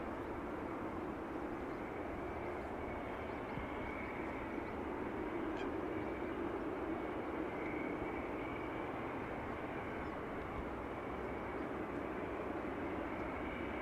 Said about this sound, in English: there is a City Hopper Embraer 190 inbound